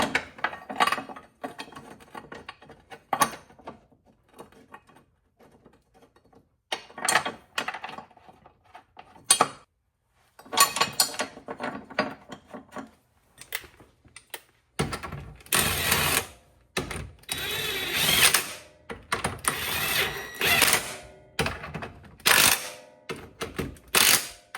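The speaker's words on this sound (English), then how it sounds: "We're just going to snug this one down for now." A hand ratchet snugs a nut onto a stud on a Subaru front control arm bracket, giving bursts of quick clicking in irregular runs with pauses between, close and fairly quiet, busier toward the end.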